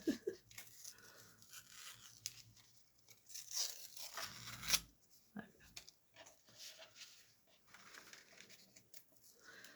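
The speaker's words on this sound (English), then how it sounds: "I gotta be really careful not to tear the whole thing off" Paper is torn from a witch-themed junk journal page being decorated with moss, giving slow intermittent rips and crinkles, close and quiet, with soft speech murmuring in places.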